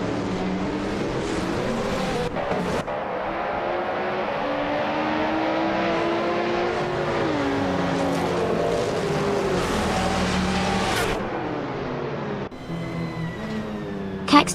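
Race car engines roar continuously in a video game at the Sydney Homebush Street Circuit, with a 2004 Ford in the LMP 900 class among the field. Multiple engines drone and shift pitch together at the race start, loud and sustained.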